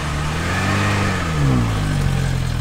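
A patrol car's engine revs up as it pulls away, a loud medium-pitched roar that climbs and swells midway before settling into a steady drone.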